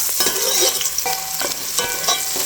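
Garlic, ginger and onion sauté in a pan, a bright, steady sizzle broken by several rhythmic stirring scrapes, close and loud, with no talking.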